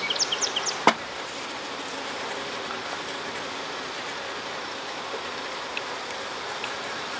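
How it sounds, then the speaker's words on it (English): Honey bees buzz steadily over a hive frame crowded with bees under a new queen, a close, even drone with a few sharper buzzes and a faint tap near the start. "This frame is busy with bees."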